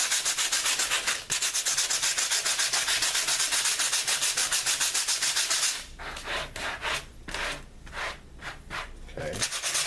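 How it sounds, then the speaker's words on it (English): Sandpaper rubs over a dried pre-mixed concrete patch road on a model railroad layout, a loud continuous scrubbing at first, then breaking into separate short back-and-forth strokes. "So now I'm going to sand it and smooth it out just a little bit."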